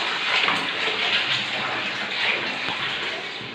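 Water pours and splashes steadily from a tap as greens stalks and potatoes are rinsed, a dense close wash of running water with no talking.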